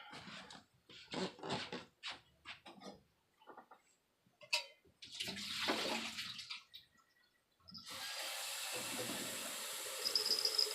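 Tap water runs steadily into a kettle for tea from about the eight-second mark, a continuous broadband rush that follows several seconds of scattered clatter and handling noises.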